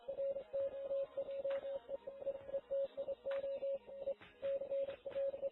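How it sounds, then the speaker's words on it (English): A faint Morse code signal beeps on one steady pitch, its short and long tones broken by irregular gaps and running without pause from start to end, with no voices. "I have heard some Morse code in my life, and that is Morse code."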